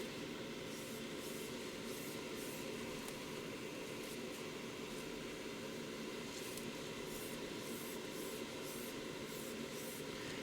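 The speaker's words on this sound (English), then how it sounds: "We're just doing short sprays here." Spray paint hissing from a can held close to a metal surface, a steady hiss with short repeated bursts faintly audible over constant background noise, no talking.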